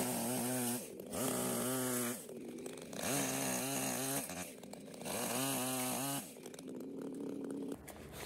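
A chainsaw cutting a wooden log into rounds roars in repeated bursts, revving up and easing off several times in a steady rhythm.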